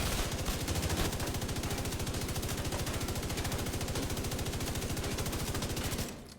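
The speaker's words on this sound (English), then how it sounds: "Now this is with the LMG with Frenzy." LMG machine gun in The Division 2 video game firing one long, rapid, unbroken burst of evenly spaced shots for about six seconds, loud and close, then cutting off abruptly.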